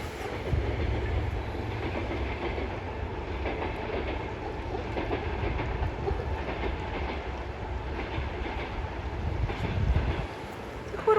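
Train rolling past near the Carpathian forest at Verkhovyna, a steady loud rumble with clickety-clack of wheels on the rails, continuous throughout and close by.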